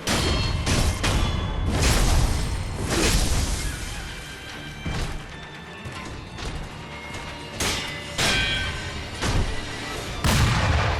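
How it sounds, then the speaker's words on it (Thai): Heavy booming cannon blasts in the video game Sekiro: Shadows Die Twice go off repeatedly in uneven bursts, loud and crashing, layered over a constant rumbling background. "โอ้โห โดนยิงปืน"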